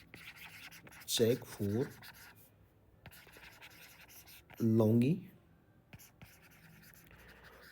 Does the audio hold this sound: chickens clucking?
no